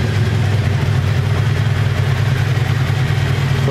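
1984 Honda Saber VF700S V4 motorcycle engine idling steadily on its own fuel tank, a close, constant low rumble with an even pulse throughout.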